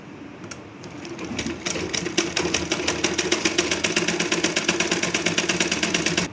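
A domestic sewing machine stitches lace onto a blouse, its rapid mechanical clatter steady and close, running continuously with a regular fast rhythm after a brief start.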